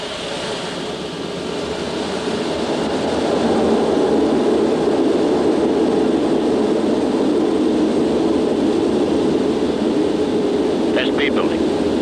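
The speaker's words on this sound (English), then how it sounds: "Okay, we're cleared for takeoff." Concorde jet engines roar steadily through the takeoff roll, a loud broadband rumble that swells over the first few seconds and then holds constant, heard from inside the cabin.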